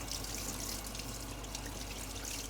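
Faint, steady trickling and dripping water, like liquid draining into a sink, quiet and continuous with no voices.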